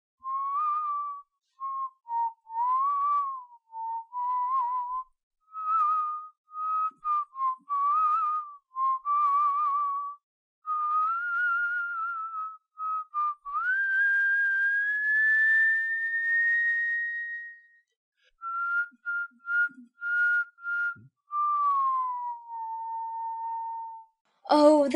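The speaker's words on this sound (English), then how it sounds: "said the footman, and began whistling." A person whistles a slow, wandering melody, clear single notes and held tones with brief pauses between phrases, close and alone.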